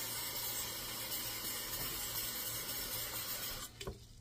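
A continuous rushing, hissing stream of water fills a cup for several seconds, loud and close, then cuts off at the end with a brief clatter.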